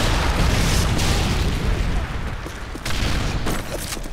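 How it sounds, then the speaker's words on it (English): Predator missile strike in the video game Modern Warfare 3, a loud booming explosion with a rumbling, crackling tail that rolls on and gradually thins out, with faint game chatter underneath. "Predator missile inbound."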